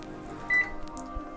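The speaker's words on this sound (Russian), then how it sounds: "у меня есть микроволновка, отправляем это в микроволновку на 15 секунд" A microwave oven runs steadily with a low, even hum while melting chocolate for a budget romantic dinner, with a brief bright beep-like tone near the middle and soft handling clicks.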